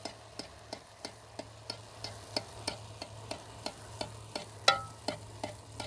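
Puri frying in very hot oil while oil is ladled over it, giving a steady low bubbling bed with regular sharp ticks and splashes about every half second and one louder splash near the end, with no talk.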